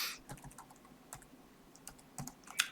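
Quiet typing on a computer keyboard, a handful of light key clicks at an uneven pace against a faint background hiss.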